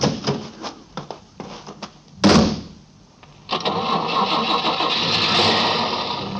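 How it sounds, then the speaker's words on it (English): A family car's starter cranks in several short bursts, then the engine catches with a loud jolt, dies back briefly, and settles into a steady running roar for the last few seconds. "Try the starter again, Betty."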